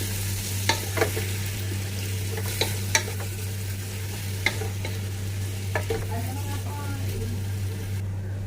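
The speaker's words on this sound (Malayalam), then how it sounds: "നല്ലപോലെ വരട്ടിയെടുക്കാം" Beef for a beef biryani is stirred and roasted in a pan: repeated spoon scrapes and clinks over a steady sizzling bed, close and moderately loud, with a constant low hum underneath.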